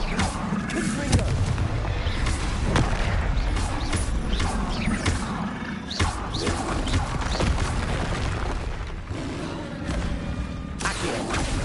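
Confringo fire spells blast repeatedly in Hogwarts Legacy: dense, crashing booms and impacts that overlap almost without a break, with a voice speaking now and then amid the din.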